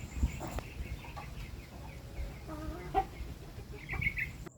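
Chickens in a backyard coop housing young birds of oriental breeds, giving scattered clucks and short calls at close to middle distance over a low rumbling background, with a sharper call near the end.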